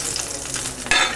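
Two whole cardamom pods tempered in hot oil for a prawn curry, a soft steady sizzle that briefly swells louder near the end of the short burst.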